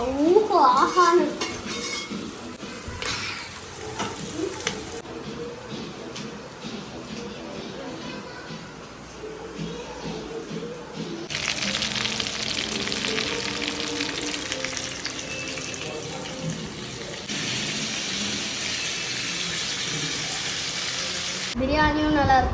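Biryani cooking in a pot sizzles and fries, with stirring scrapes and clinks of utensils against the pan; a voice talks over parts of the kitchen noise.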